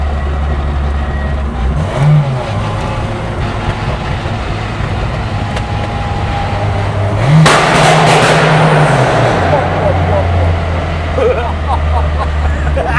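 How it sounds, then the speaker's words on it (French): A car engine revs hard and steadily while slipping in second gear inside a tunnel, a loud droning roar that booms off the walls and swells briefly midway. "C'est la deuxième, ça patine, ça arrête pas."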